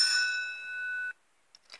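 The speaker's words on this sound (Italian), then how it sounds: "No, la campana!" A school bell rings on a bright sustained metallic tone for about a second, then cuts off, followed by a few faint clicks.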